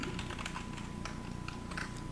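Quick, light clicks of computer keyboard keys pressed in short irregular bursts, close up and quiet, with no voices.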